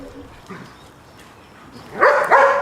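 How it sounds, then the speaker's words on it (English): A dog gives two loud, close barks near the end after a quieter stretch of faint background noise and small sounds. "A dog barking is his favorite sound."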